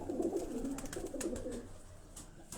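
Racing pigeons being readied for the season coo in low, throaty murmurs, close and continuous, with occasional brief rustles and clicks.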